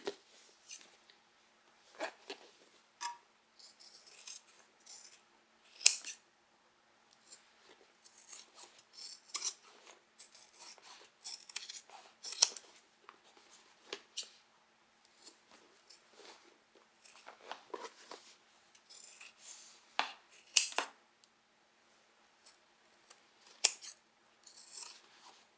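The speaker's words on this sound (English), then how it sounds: "now we are going to cut these seam allowances back" Scissors trim the seam allowances on a fabric crossbody bag, giving many close, crisp snips in irregular clusters with quiet gaps between them.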